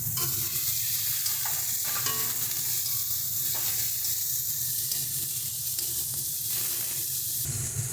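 Chopped tomatoes sizzle and fry in a pan of well-cooked masala for chana pani, with steady loud hissing and stirring scrapes throughout and no talk.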